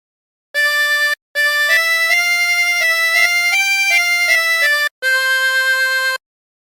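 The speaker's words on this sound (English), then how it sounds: "practice this until you end up with something that sounds like this" Harmonica plays the Squid Game theme phrase as three clean melodic bursts of sustained reedy notes with brief breaths between, close and loud with no talking.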